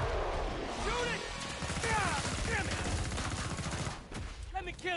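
Rapid gunfire in the Killing Floor 2 video game, a dense burst of repeated shots and impacts under loud game noise, with a voice shouting over the shooting.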